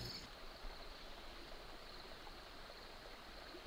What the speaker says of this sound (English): a clearing in the woods with a small creek that funnels into a sinkhole